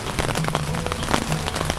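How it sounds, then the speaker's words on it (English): Steady rain pattering on an REI Quarterdome backpacking tent at a campsite, a dense, continuous drumming of drops close overhead with no pauses. "Still coming down. It was a long night of rain."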